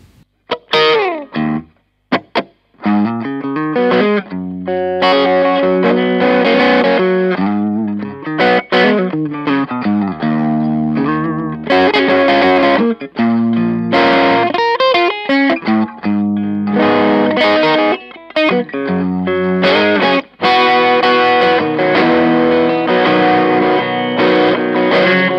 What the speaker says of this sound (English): We'll start off with a low gain setting to give us kind of soft breakup sound on channel one